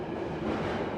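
A London Underground tube train simulator rumbles steadily as it moves, a continuous dense clatter with no pauses or voices.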